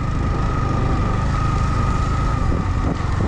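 Motorbike riding a slippery, muddy mountain road near Kunzum Pass in Spiti, a steady loud engine drone mixed with heavy wind rush on the microphone throughout, no talking.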